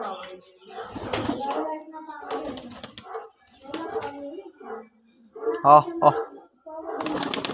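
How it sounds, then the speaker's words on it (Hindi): Pigeons coo and shuffle nearby while a person talks over them, with a brief burst of wing flapping near the end. "सो तुसीं देख सकदे हो अंदर कबूतर"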